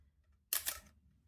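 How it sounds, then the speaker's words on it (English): A single crisp mechanical shutter release on an analogue SLR camera fitted with a 50mm lens, one sharp close click with a short rattling tail in an otherwise quiet room. "Line's on, shutter's firing fine."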